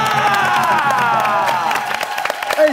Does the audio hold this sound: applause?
yes